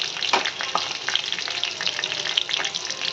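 Cumin seeds and a bay leaf sizzle and crackle steadily in hot oil, a close, continuous frying hiss dotted with small pops throughout, with no voices.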